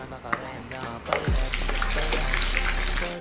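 Marinated fish coated in cornstarch sizzling in hot oil in a home kitchen, a steady, close bubbling crackle that swells after a brief stir and continues for a few seconds with no talk over it.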